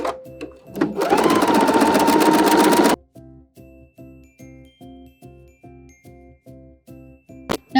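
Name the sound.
sewing machine sewing lining with broken zigzag stitch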